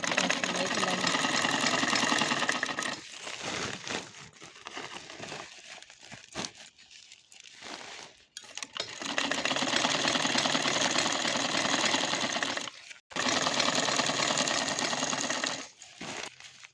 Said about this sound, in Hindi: अब इसको घुमाना है और सिलाई चलानी है